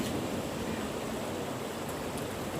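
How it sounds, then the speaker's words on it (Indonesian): Ocean waves wash onto a beach beside seaside houses, making a constant, dense rushing roar that stays loud and even throughout without any voices. "mohon maaf ini sedikit berisik teman-teman karena suara ombak ya"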